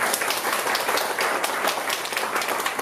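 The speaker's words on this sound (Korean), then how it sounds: "함께 박수 한번 했으면 좋겠습니다" A church congregation in Ansan claps together for its youth department, producing a continuous, moderately quiet patter of many hands.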